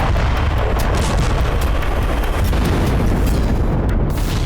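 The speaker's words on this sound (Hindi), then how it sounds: "जोरदार धमाकों के साथ उठता आग का गुबार" Heavy explosions with a rising fireball strike residential buildings, a dense continuous roar of booming blasts with rumbling low end, loud and sustained throughout without pause.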